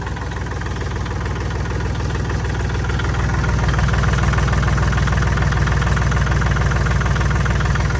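A Kubota L3608DT tractor diesel engine idles steadily up close, a loud continuous low knocking rumble with even rhythmic pulsing and no talk.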